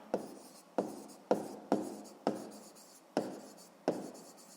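A pen writes out a math solution by hand on paper: a series of about eight short, close scratching strokes in an uneven rhythm, quiet and alone.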